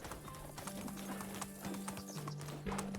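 Horse hooves clip-clop at a steady walking pace in the medieval video game Medieval Dynasty, with a faint whinny and a low droning tone running underneath.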